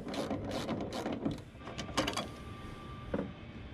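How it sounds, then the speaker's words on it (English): A ratchet with a 12 mm socket clicks in quick bursts, tightening the bolts on light brackets mounted to a Hyundai Santa Cruz hood, close and moderately loud with short pauses between strokes. "it's a 12 millimeter socket. So you can go ahead and tighten those all the way up."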